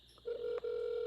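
A telephone rings as a steady, loud electronic tone that cuts out for a moment partway through and then resumes, with no talking over it.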